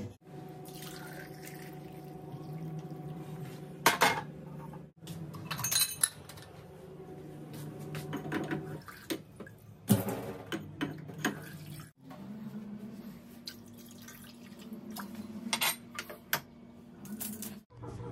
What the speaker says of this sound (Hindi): पहले धो देते हैं गिलास को